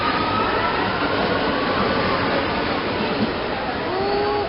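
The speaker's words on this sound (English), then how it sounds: "And the train leaves Barberini." A steady, dense rumble and rattle of a train departing Barberini station, with faint squeals of wheels toward the end.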